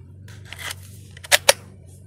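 A 30 mm Seesii electric pruning shear is fitted onto its telescopic pole, giving two sharp, close mechanical clicks near the end after a quiet stretch of faint handling noise.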